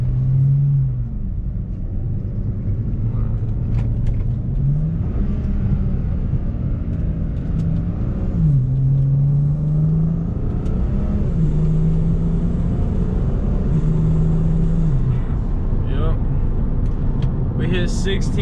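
A BMW 335i with a backend flash accelerating at nearly full throttle under boost, a loud sustained engine drone rising in pitch through several gears with brief dips at each shift, close and continuous.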